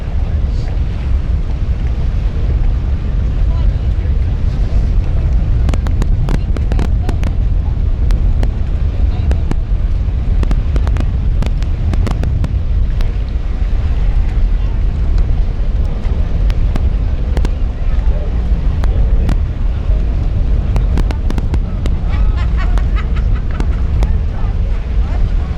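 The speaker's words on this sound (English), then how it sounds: "Second race boats are approaching the starting barge" River class racing boats close in on the starting barge at the Thunder on Tholocco races, a continuous loud engine roar mixed with heavy wind buffeting, while an announcer talks over it.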